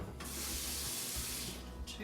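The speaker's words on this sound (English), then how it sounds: "And we're going to add about 1/2 cup of water" About half a cup of water is poured into a pan with taco seasoning, a steady hissing splash lasting over a second before trailing off, close and clear.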